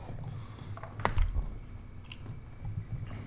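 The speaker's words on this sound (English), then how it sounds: "What are you chewing?" A person chewing food close to a podcast microphone, soft wet squishing and biting sounds scattered irregularly over a low background hum, with a slightly louder bite near the start.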